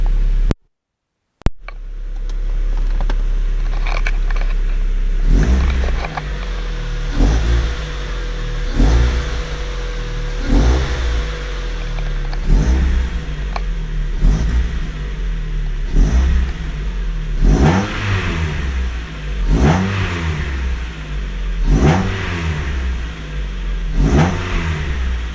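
A 1999 Mazda MX-5 Miata 10th Anniversary Edition, with a check engine light on from a downpipe issue, cranks and cold-starts, then settles into a steady idle and is revved repeatedly in sharp, loud, close bursts.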